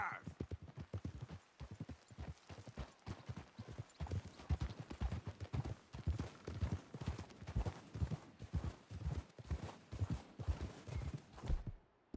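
Steady clip-clop of horse hooves at a trotting rhythm in the video game Red Dead Redemption 2, close and continuous, with a faint wind-like background.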